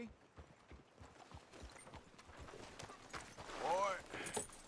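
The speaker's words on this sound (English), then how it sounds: "I don't know where the fuck my horse is going" Video-game horse hooves clip-clop in a steady walking rhythm, fairly quiet, with a short whinny toward the end.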